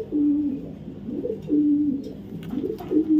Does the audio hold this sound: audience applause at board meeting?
no